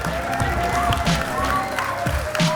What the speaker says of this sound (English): It's just really amazing to hear them cheer for me here